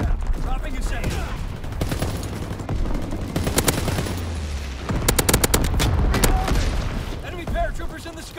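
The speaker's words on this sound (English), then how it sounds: "Anti-aircraft bursts commence." In a war video game, anti-aircraft guns fire rapid bursts of loud cracking shots, dense and continuous in places, over a low rumble of battle noise.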